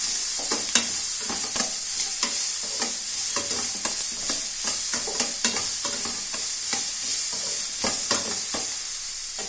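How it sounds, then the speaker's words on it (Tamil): Aval upma is stir-fried with turmeric powder and salt, giving a continuous loud close sizzle with rhythmic spatula scrapes and stirring strokes throughout, no voices. "1 டீஸ்பூன் மஞ்சள் தூள், தேவைக்கு அளவான உப்பு போட்டுட்டு வதக்கணும்."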